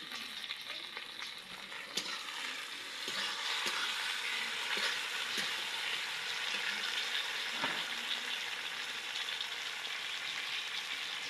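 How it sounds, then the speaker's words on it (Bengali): Chopped tomatoes sizzle steadily with browned onions in a hot pan, close up, with occasional scrapes and clinks of a spatula stirring. "পেঁয়াজ লাল ভাজা হয়ে গেছে, এখন কেটে রাখা টমেটো দিয়ে দিচ্ছি।"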